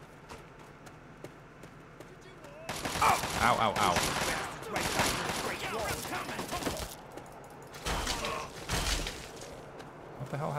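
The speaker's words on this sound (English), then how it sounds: "Where are these explosions coming from?" Bursts of rapid explosions and gunfire in the video game Fallout 3, loud and clustered, with a voice crying out briefly between them.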